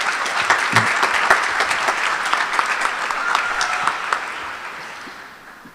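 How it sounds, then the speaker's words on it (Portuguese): A church congregation breaks into applause after a Gospel reading. The clapping is dense and lively at first, then gradually thins and fades away toward the end. "Dá uma salva de palmas para a palavra do Senhor."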